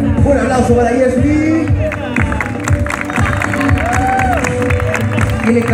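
Audience applause and cheering at a rock festival in Pudahuel, a crowd clapping and whooping steadily for several seconds, mixed with loud talk over it.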